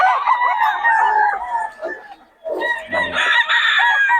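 A Leaper Hearts gamecock stag crows loud and close, its long call breaking off and then rising again, with softer clucking and faint farmyard sounds between.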